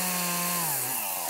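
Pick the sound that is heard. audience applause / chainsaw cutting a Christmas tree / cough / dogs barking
chainsaw cutting a Christmas tree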